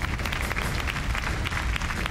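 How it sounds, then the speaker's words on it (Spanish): Brief burst of television studio audience applause on a game show, dense and steady clapping filling the whole moment at close range. "Quiero pedir un aplauso para los dos"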